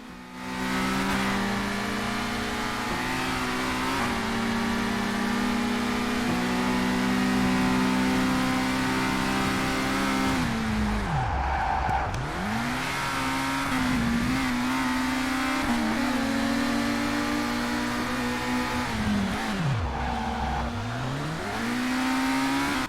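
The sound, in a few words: race car engines in video game Race Driver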